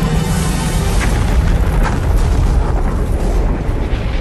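A huge, roaring gas tank explosion fills the whole clip, a dense sustained rumble with no pause, loud and overwhelming.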